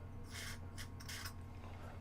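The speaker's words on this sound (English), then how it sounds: "So I'm just going to spray onto the ball bearing down there." A short aerosol burst of lubricant sprayed onto a ball bearing while assembling an HF antenna switcher: a few quick, close hissing puffs, loudest near the start and fading after the first second.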